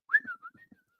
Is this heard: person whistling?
yes